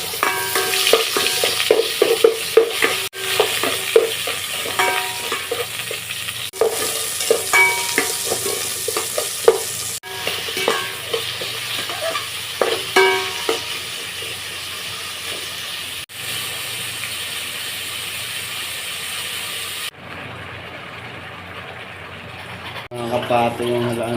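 Gigi fish frying in hot oil, a loud, continuous sizzle and crackle with occasional stirring scrapes and clanks, close up, easing to a steadier hiss near the end while a voice speaks over parts of it.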